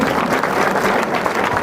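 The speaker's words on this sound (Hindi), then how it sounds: "खर सर जो फायरमैन के चेयरमैन हैं, उनके लिए भी जोरदार तालियों से स्वागत करें।" An audience at the inauguration ceremony of The Grand Public School claps together in dense, continuous applause, loud and close throughout.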